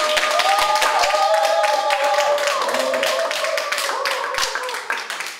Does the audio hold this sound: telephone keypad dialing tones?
no